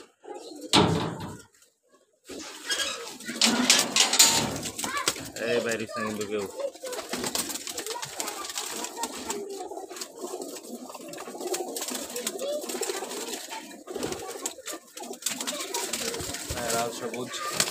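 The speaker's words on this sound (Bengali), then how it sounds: "এগুলো আমার উড়াল কবুতরের সেট আপের কবুতর।" Rooftop flying pigeons coo steadily in a low, rolling chorus close by, beneath someone speaking, with a sharp knock or slam near the start.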